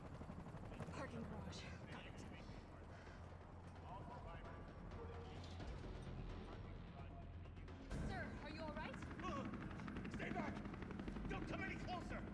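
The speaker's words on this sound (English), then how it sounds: "there's a helicopter waiting to take you to safety." A helicopter in Resident Evil 3 Remake whirs steadily in the background while gunfire pops and people talk over the noise.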